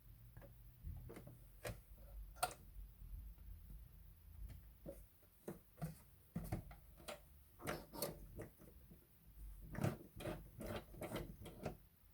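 A sewing machine stitches a zigzag in a quiet room, giving irregular soft ticking clicks and brief mechanical taps spread across the clip, faint and close.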